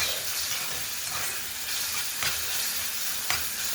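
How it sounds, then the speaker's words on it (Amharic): Carrots and onions fry in a pan with a steady close sizzle, broken by a few scraping stirs and no talk. "በነፃነት ካሮትና ሽንኩርት ተጠበሰች።"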